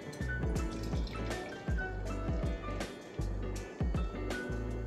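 Fidens double New England IPA glugs from a can into a glass in several bursts of splashing, gurgling pour, close and fairly quiet, with short pauses between glugs.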